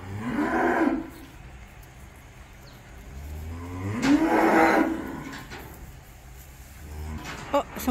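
A newborn calf, with a hoof problem, gives two long, loud moos close by, separated by quieter farmyard noise.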